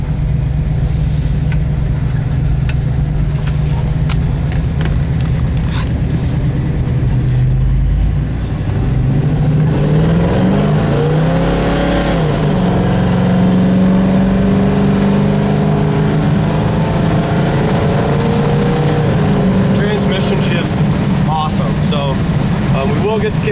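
A 1968 Chevelle SS with a numbers-matching engine revs hard while accelerating in first gear, a loud, steady engine roar that rises and sweeps in pitch through the middle of the run, alongside some talk.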